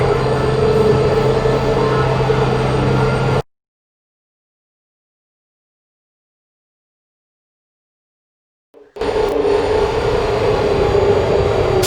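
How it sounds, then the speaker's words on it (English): An elevator in the video game Portal Stories: Mel rumbles loudly with a steady mechanical drone, cuts to dead silence for several seconds, then the heavy rumble returns just as loud. "The elevator, it wasn't going to my testing track, so I've rerouted the lift."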